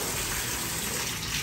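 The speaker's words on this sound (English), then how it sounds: "Wanna drink some water out the hose?" Water gushes steadily from a hose into a big water tub kept for a king cobra, a continuous broad splashing rush close by with no talk over it.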